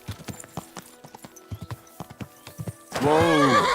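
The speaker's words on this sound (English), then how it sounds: "Easy, good horse." In Kingdom Come Deliverance 2, a horse's hooves clop in a quick, even rhythm, then the horse lets out a loud, close whinny that fills the last second.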